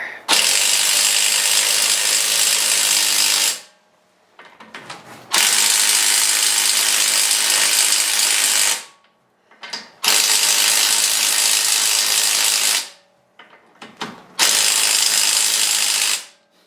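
A ratchet loosening the wheel bolts on an R53 Mini, four long loud bursts of rapid clicking separated by short pauses and a few brief clicks, close by with no talk.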